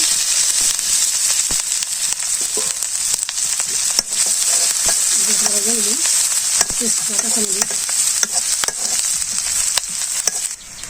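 Spice paste with chopped green chilies and five-spice frying in a pan for a small-fish and water lily stew, a dense steady sizzle with occasional sharp pops and utensil knocks throughout.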